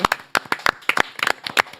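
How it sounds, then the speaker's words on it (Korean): A Korean TV studio audience claps to welcome guest lawyer Jeong Pil-seung, a short burst of distinct, fairly close hand claps from a few people, uneven and brief. "정필승 변호사 박수로 맞이합니다"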